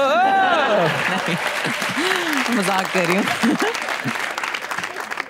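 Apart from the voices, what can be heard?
studio audience applause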